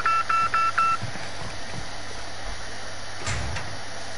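Telephone ringing in a multiplayer video game, four quick, evenly spaced electronic beeps up front, then low game background noise and a brief scrape or thud near the end.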